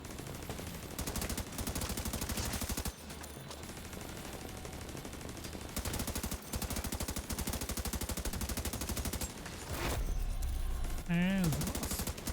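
Sustained automatic gunfire in the video game The Division 2 rattles in long, loud bursts with brief pauses between them. A short voice-like sound surfaces near the end.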